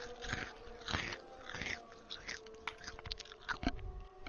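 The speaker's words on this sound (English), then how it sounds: "someone eats a Revel and you got to guess what Revel's in their mouth" Someone chewing a Revel chocolate, Malteser flavour, close to the mic, with crunchy bites and wet mouth clicks repeating over a few seconds against faint room noise.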